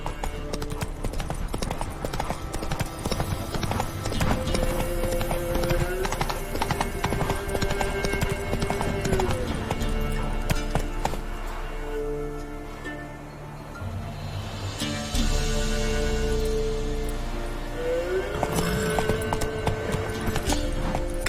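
Roach, the horse in The Witcher 3, gallops with a rapid, continuous clip-clop of hooves, loud and close, easing briefly midway before picking up again over background game music.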